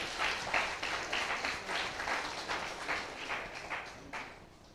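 Modest applause from an audience at an agricultural biotech symposium, a faint, somewhat uneven patter of clapping from a smaller group, fading slightly near the end.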